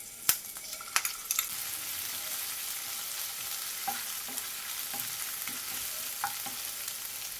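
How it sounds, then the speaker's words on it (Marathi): Green chilli, ginger and garlic paste sautéing in a pan with cumin and curry leaves, a steady soft sizzle with a few sharp spatula clinks early on and light scraping strokes throughout, no voices. "हिरवी मिरची आणि लसूणचा कच्चेपणा निघून जाईल इथपर्यंत पेस्ट परतून घेऊया"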